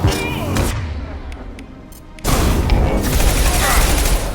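Mass Effect 2 combat with shotgun fire: loud blasts and gunfire crowd the opening, fall quieter, then return as heavy continuous firing and booms, with a voice speaking amid the noise.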